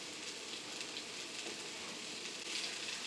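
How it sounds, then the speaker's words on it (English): Lo mein noodles sizzle in a cast iron pan with vegetable oil, a steady, dense frying hiss that holds at an even level throughout with no talking. "We're just going to give that a real quick sizzle."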